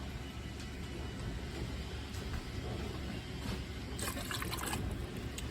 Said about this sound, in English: I'm going to put in half a gallon of water